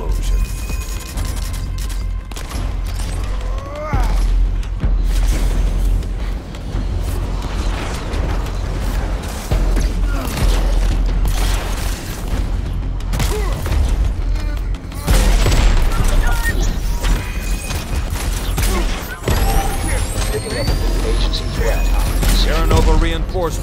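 Crackdown 3 combat with explosions, booming blasts and bursts of gunfire-like fusillades over a dense, continuous mix of game music and mechanical noise, loud and sustained from start to finish.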